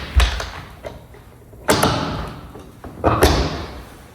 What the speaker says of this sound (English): So then after we have our hammer in, it's real simple. We just close the doors.